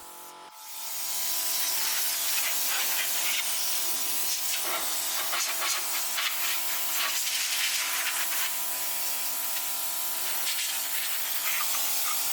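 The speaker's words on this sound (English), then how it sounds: "Rattle can time. Color matched as close as we could." Rattle-can spray paint hisses out in one long, steady, close burst, color-matched for a Lamborghini restoration part, starting after a brief quiet moment and continuing unbroken to the end.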